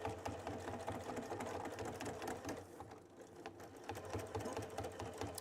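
A Baby Lock sewing machine with a jeans needle stitches steadily over a thick seam bump on a tote bag, its motor hum and rapid needle clatter continuous and close, briefly easing mid-run before resuming at full pace.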